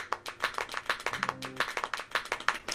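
Quick, steady knee clapping, light and close, at a brisk pace for nearly three seconds, with a faint tone humming partway through.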